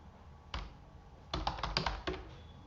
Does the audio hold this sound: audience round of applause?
no